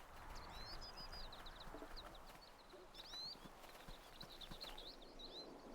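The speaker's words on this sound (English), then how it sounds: "It's just a dog chasing a chicken." A chicken clucks and chirps in the video game Neverwinter Nights, with short, faint calls scattered over steady ambient game noise.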